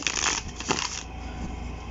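Glossy, slippery tarot cards are shuffled close by, a quick dense riffling flutter that fades into a softer continuous rustle, with no voices.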